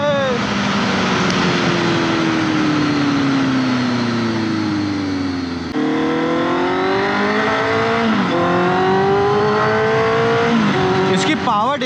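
A motorcycle's exhaust drones loud and close while riding, its engine note rising and falling through gear changes, with a rider talking over the noise.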